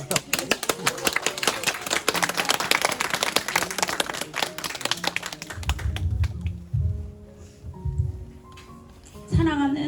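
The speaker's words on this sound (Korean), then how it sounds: "박수 한번 칩시다" Brisk clapping from a small group at a children's graduation ceremony, crisp and close for about six seconds, then fading into quieter room sounds and a voice near the end.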